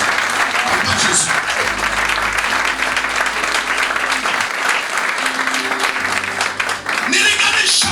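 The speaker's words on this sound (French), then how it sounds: "On va acclamer votre frère." A church congregation applauds, sustained loud clapping from a large crowd with voices and cheering mixed in throughout.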